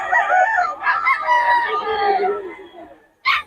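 A rooster crows loudly and close by in a long, drawn-out call, followed by a brief sharp cluck or call at the end, at a Bocaue market selling roosters and stags.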